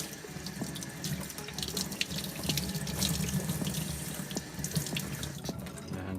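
Running tap water splashes steadily over a pair of Nike KD Trey 5 sneakers held under a sink faucet, a continuous close, even rush with no talk.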